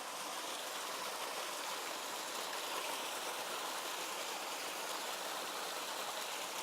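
A calibrated watering can pours diluted larvicide solution into a small stream, giving a steady, fine splashing hiss of water falling onto water that holds constant for several seconds, moderately close, with no voices.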